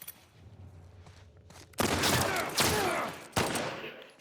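Gunfire in The Last of Us rings out after a quiet stretch as three loud, close volleys of rapid shots, each fading with an echoing tail.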